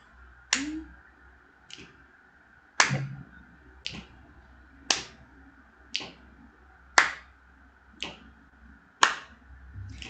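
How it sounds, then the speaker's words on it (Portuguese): Rhythmic hand claps and finger snaps from a counting rhyme in a classroom-style inclusion workshop, evenly spaced sharp hits about one a second, alternating in pairs, close and fairly quiet over a low background hum. "quantas vezes nós batemos palma? Quantas vezes nós fizemos o estalo?"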